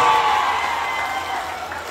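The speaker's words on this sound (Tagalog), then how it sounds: "Naku, malakas ang palakpak nyo." Crowd applauding loudly at an outdoor public event where the president announces aid for Baseco residents in Manila, a thick continuous roar of clapping mixed with cheering voices that stays strong and slowly eases.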